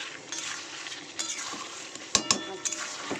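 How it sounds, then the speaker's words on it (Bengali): Potatoes stir-fried in spice masala in a pan, with a low steady sizzle, scraping spatula strokes and a few bright metallic clinks against the pan near the end. "আলুগুলো দিয়ে মশলার সাথে ভালো করে কষাবো যতক্ষণ না কাঁচা মশলার গন্ধটা যাচ্ছে ও তেলটা ছাড়ছে"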